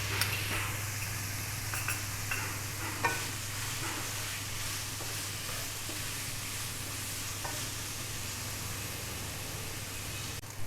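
Finely chopped green chilies go into keema frying in a pan, giving a steady loud sizzle with occasional scraping stirs throughout.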